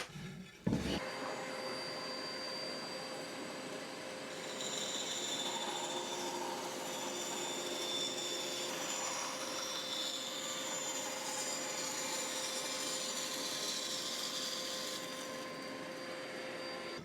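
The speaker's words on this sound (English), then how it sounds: "So I'm going to get that marked out and cut on the bandsaw." Bandsaw cutting tapers into wooden coffee table legs, a steady continuous whine and rumble after a brief start, close and alone with no voices.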